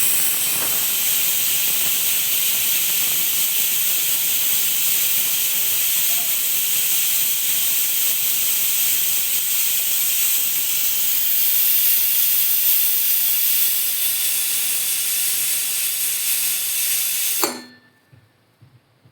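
A pressure cooker making methi rice releases steam with a loud, continuous, bright hiss for about seventeen seconds, then cuts off sharply into near silence.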